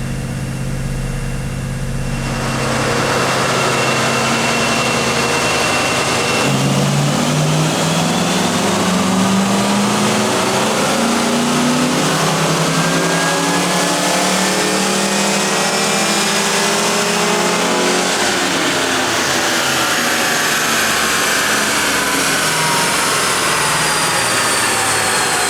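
A bone stock 1993 Ford Mustang Cobra engine revs hard on a chassis dyno, a loud sustained roar climbing steadily in pitch through the gears for over twenty seconds before easing off, with no talking.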